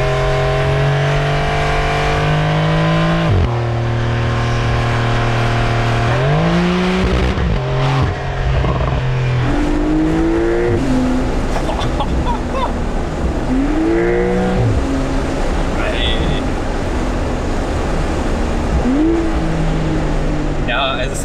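A 450 hp Porsche 992 Targa 4S accelerates hard through repeated gear changes, its engine note climbing and dropping in rising sweeps, loud from inside the car while a person talks over it.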